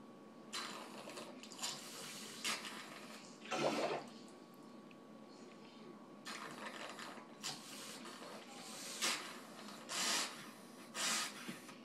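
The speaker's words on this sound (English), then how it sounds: "This is just regular hot tap water." Hot tap water squirts through an e-cigarette cartomizer from a turkey baster in short, faint hissing spurts separated by pauses.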